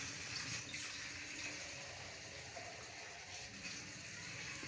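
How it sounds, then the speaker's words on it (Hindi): Water being poured into a pot of chicken pulao with tamarind and browned chicken, a steady gushing, splashing flow that runs continuously and fairly close, with no talking. "इसमें मैं ना चावलों के साथ से पानी डाल दिया"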